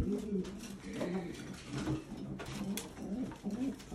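Breeding pigeons, hens close to laying, coo in low repeated murmurs close by, with a faint clink of dishes or metal in the background.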